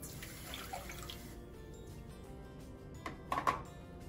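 Water poured into a saucepan on high heat while making cranberry sauce: a soft, fairly quiet trickling splash with a few louder splashes near the end.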